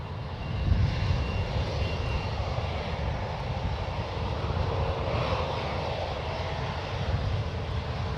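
Airliner on a fast takeoff roll at San Francisco International Airport, a continuous low engine rumble with broad roar, steady and moderately distant, with no talking.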